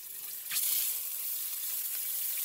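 Salmon pieces sizzle as they fry in a pan, a bright steady hiss that swells as they hit the hot oil and then carries on up close, with no talking.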